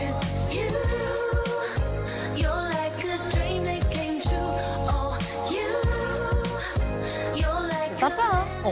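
An unreleased 1990s song plays loud and steady, with a full band, deep bass and a bright melodic lead line running throughout.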